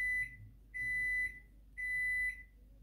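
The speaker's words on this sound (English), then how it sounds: "So that timer was set for 3 minutes." Heat press timer used for sublimating a glass candle jar in a tumbler press beeps three times in a steady rhythm, each tone a sustained electronic beep of about half a second, close and clear over a quiet background hum.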